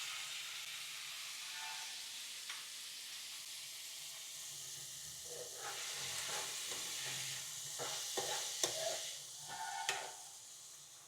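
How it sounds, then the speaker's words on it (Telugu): Curry leaves and chopped tomatoes added to a hot pan for tomato masala oats, a steady hissing sizzle with stirring scrapes and sharper pops toward the end, close and without talk. "రెండు రెబ్బలు కరివేపాకు, 200 గ్రాములు టమాటా ముక్కలు అయితే వేసుకోండి."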